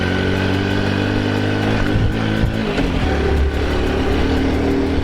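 A 1985 Honda C90 Cub motorcycle engine hums steadily and close while the bike rounds a corner, its note dipping and rising slightly with no talk over it.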